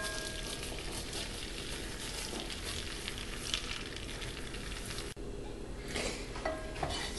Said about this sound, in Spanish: Mezclamos todo bien y lo repartimos por toda la base de la cazuela.